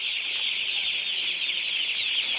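A dense, steady chorus of high-pitched cheeping from many broiler chicks of the Cobb breed, close by and continuous with no voices.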